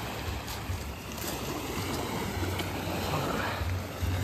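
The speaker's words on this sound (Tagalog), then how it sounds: "Sarap pakinggan ng alon." Continuous rushing of ocean waves, a broad roaring wash with low rumbles, steady and fairly close, with no voices.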